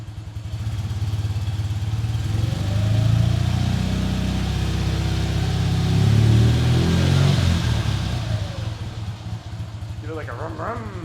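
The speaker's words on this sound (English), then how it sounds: "Rev it up a little bit." A warmed-up motorcycle engine revving twice, rising and falling in two swells over a steady idle, with a person talking near the end.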